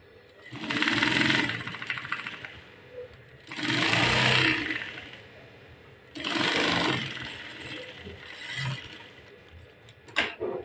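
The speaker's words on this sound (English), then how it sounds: "So I'm going to just hold it down and then I'll sew." A sewing machine stitching a corset seam runs in three long bursts separated by short pauses, steady whirring and clattering close by, with a faint click at the end.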